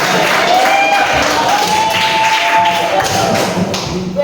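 Sustained applause from a classroom audience during a teacher's performance assessment lesson, dense and steady clapping for about four seconds, fading slightly at the end.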